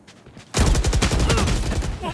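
Rapid bursts of gunfire from the video game Valorant erupt suddenly and stay loud and dense, with overlapping shots and a player's voice talking through the barrage.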